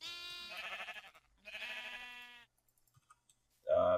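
Sheep bleating in the Minecraft video game, with two long, wavering bleats, then a brief pause and a short third bleat, sounding near and clear with no talk over them.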